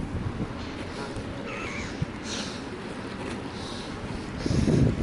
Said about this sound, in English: it's a bit windy, so I'm trying to protect the camera